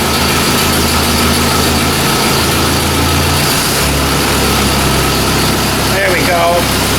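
Engine of a Ford 2N tractor running steadily, loud and close, a constant idling rumble with a brief shift in tone partway through, and a person speaking over it near the end.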